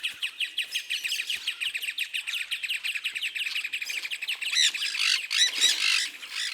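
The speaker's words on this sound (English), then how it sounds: "The screeching and squawking of parakeets, macaws and other odd birds never ceases." Parakeets, macaws and other birds in the Pantanal wetland screech and squawk without pause: a dense, loud, overlapping chorus of harsh calls with no talk.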